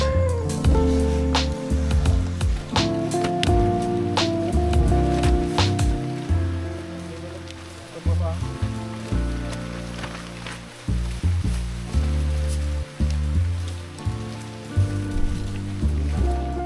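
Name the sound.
rain falling on a mountain trail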